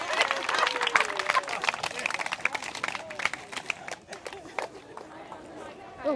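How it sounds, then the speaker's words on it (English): Outdoor crowd at Speakers' Corner in London breaking into applause after a poem is read, a dense patter of clapping that gradually thins, with voices chattering through it. "I would imagine that's the largest bit of applause that poem's ever had"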